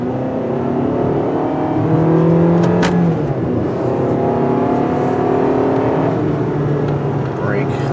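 A modern Fiat 500 hatchback's engine hums steadily from inside the cabin while driving, rising briefly as it accelerates, with road and tire noise underneath and someone talking over it throughout.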